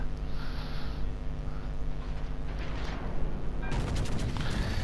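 Warship guns fire in a tier-six ranked naval video game battle between Royal Navy and German ships: a steady background rumble, then a loud, crackling volley of shots near the end.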